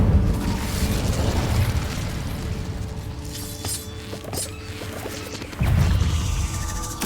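An Incendio fire spell from Hogwarts Legacy bursts with deep rumbling booms and crackling blasts, a loud sustained roar that surges again near the end.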